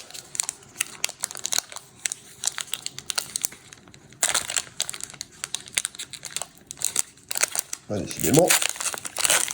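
A stubborn Pokémon booster pack wrapper crinkles and crackles in bursts, ending in a louder tearing rip, while voices speak over the handling.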